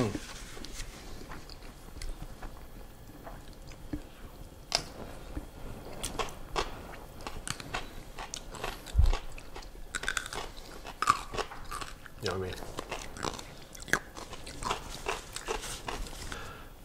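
Someone bites into and chews a large Korean sushi burrito, with soft crunches and wet chewing close to the microphone, scattered irregularly over a quiet room and interrupted now and then by small thumps.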